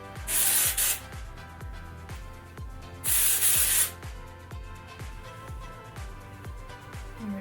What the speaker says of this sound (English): we're gonna put texturizing in her hair spray